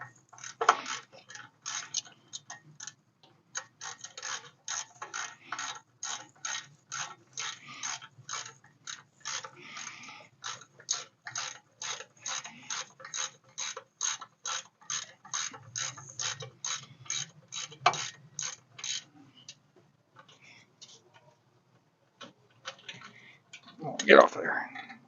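Pins on a 1959 Ford F100 being tightened with a 3/8 Allen wrench, giving a long, steady series of evenly spaced ratcheting clicks close up, which then trail off into a few scattered knocks.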